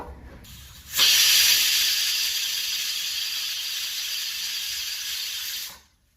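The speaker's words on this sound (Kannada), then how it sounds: "ಇದೀಗ ಕುಕ್ಕರ್ 2 ಬಾರಿ ಕೂಗಿದೆ." Pressure cooker whistling on the stove while cooking tomato bath rice, a loud sustained hissing steam whistle that starts abruptly, holds steady for about five seconds, then cuts off, with no talk over it.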